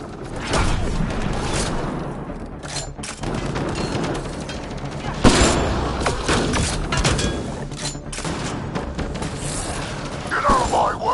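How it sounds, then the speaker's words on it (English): Sustained automatic weapon fire in the sci-fi shooter Mass Effect Andromeda, a dense rattling barrage with a heavy impact midway, mixed with mechanical clatter and game ambience. "Shooting as fast as I can!"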